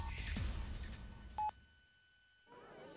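A telephone is dialed, a brief keypad tone sounding once after some rustling, then a quiet pause before the line opens up.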